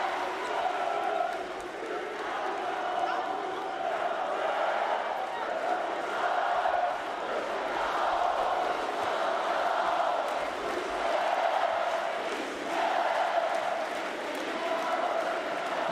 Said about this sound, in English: Listen to this crowd, it is sensational.